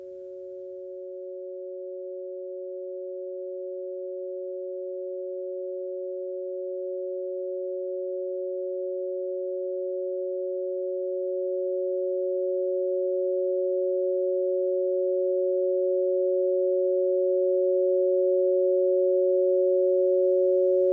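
A Microkorg synthesizer holds a steady, pure sine-wave tone with a faint second pitch just below it, sustained alone and slowly growing louder throughout.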